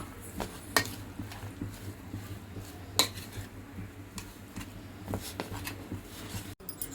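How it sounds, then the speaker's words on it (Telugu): A spoon scrapes and clinks against a metal bowl while salt is mixed into minced mutton keema, with a few sharp taps standing out over soft stirring and a quiet background hum. "అర స్పూను సాల్ట్ వేసి బాగా కలుపుకోవాలి ఇట్లా"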